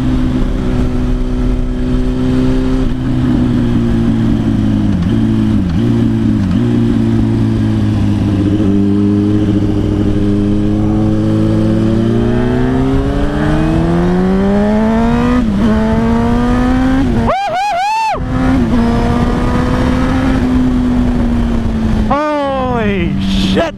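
A Yamaha MT-07 or R1 motorcycle on a demo test ride, its engine droning steadily then climbing in pitch as it accelerates, buried in heavy rushing wind noise, with brief dropouts.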